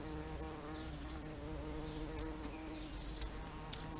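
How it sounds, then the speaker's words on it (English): A bee buzzing steadily and close throughout, a continuous droning hum with no voices over it, recorded outdoors among spring wildlife. "Hello Buzzy Bee, you're on camera."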